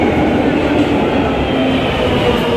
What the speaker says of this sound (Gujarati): આમાં ટ્રેન આવે છે અહીંથી